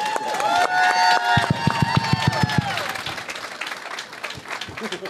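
Audience applause at a convention panel for Young Guns at Steel City Con, December 2023: a dense burst of clapping with sharp, rhythmic claps mid-way that thins out toward the end, with voices mixed in.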